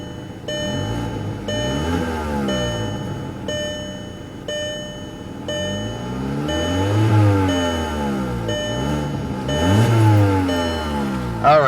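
Loud, raspy exhaust from a 2007 Volkswagen City Golf with a 5-speed manual and a worn exhaust, revving up and down in repeated swells from a steady idle, close by with no talk.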